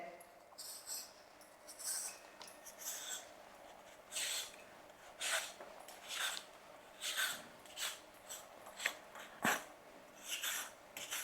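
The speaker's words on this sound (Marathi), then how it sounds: "आता आपल्याला सर्व रताळ्याच्या ना साली काढून घ्यायच्या आहेत" Sweet potatoes being peeled by hand in a kitchen, giving soft, close scraping strokes that repeat in an uneven rhythm against a quiet background.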